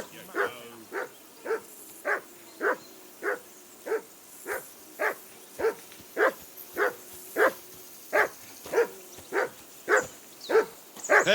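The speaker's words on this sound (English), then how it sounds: "Call off that mutt of yours!" A dog barks in Kingdom Come Deliverance II, sharp evenly spaced woofs repeating about twice a second for the whole stretch, loud and close over a low outdoor ambience.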